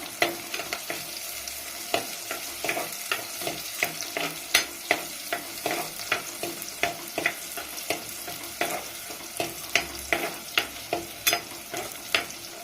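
Green chillies and onion fry in a pan for a Kerala-style fish curry, a steady sizzle broken by regular scraping clicks of a spoon stirring, close and loud with no talking.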